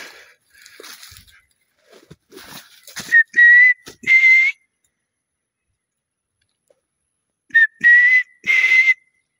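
A person whistling to imitate wild birds outdoors: clear, rising whistled notes in short phrases, loud and close, with quieter rustling and clicks between them and a long silent gap before a final burst.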